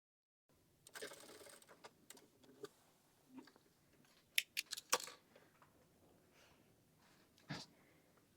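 A sewing machine stitches a double seam on a men's shirt in quiet, intermittent bursts of close mechanical ticking and clatter, with soft handling noises between them.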